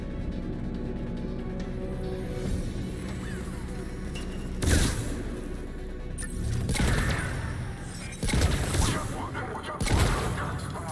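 Shotgun blasts in the video game Mass Effect 3: several heavy booming shots spaced a few seconds apart over a continuous bed of in-game battle noise and clatter.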